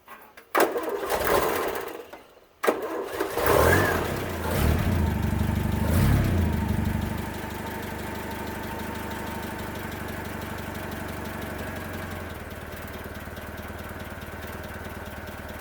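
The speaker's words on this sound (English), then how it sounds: "And let's see if the engine starts now." A Series IIA Land Rover engine, fitted with new spark plugs, cranks briefly, stops, then catches with a surge and settles into a steady, slightly rough idle. It is loud and close throughout, with no voices.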